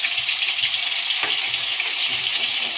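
Tomato, a bay leaf and ginger-cumin paste sizzle steadily in hot oil, a dense continuous frying hiss with a brief stir-like clink partway through; no one speaks.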